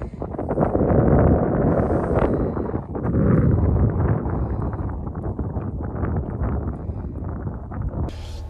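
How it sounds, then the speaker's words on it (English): Strong wind buffets the microphone out on open ice while ice fishing, a loud, rough, continuous roar with gusting swells throughout and no voices. "It's pretty windy."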